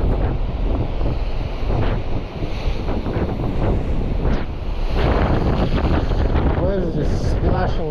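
Strong wind buffets the microphone on a rocky coastal fishing ledge, a loud continuous roar with surf rumbling underneath and brief bursts of talk.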